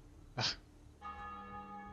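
Church bells ring in Assassin's Creed II: a short bright burst, then a sustained resonant tone that hangs on through the rest, with no talk.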